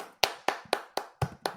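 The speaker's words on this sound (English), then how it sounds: "Clap for Jay." Six sharp, evenly spaced claps from a small group of podcast hosts, close and distinct with short silences between, cheering Mets Old Timers Day producer Jay Horowitz.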